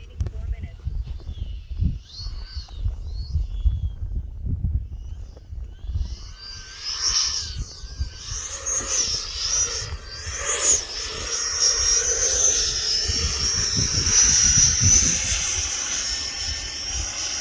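An E-flite 80mm F-16 Thunderbird RC jet flies overhead. Wind buffets the microphone at first, then the jet's high, thin ducted-fan whine swells and fades as it passes, growing louder toward the end.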